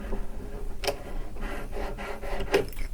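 A wooden warping peg is unscrewed from a weaving loom, giving quiet, close rubbing and rasping twists in several short strokes with soft creaks. No voices are present.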